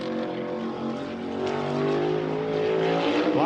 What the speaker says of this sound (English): listen to that throttle clank. You'll hear him go to partial throttle really early